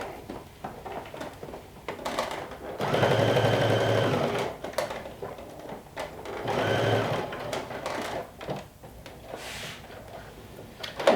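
A sewing machine stitches pleats toward the lining piece of a Sinclair Alba garment, two close bursts of rapid whirring, one around a second long and another shorter, separated by quiet handling clicks.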